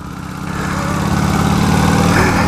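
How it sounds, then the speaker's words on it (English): A 1978 Harley Davidson Low Rider motorcycle engine runs close by, a steady low rumble with a dense pulsing beat that rises slightly in loudness and then holds even throughout. "riding a Harley Davidson is the best"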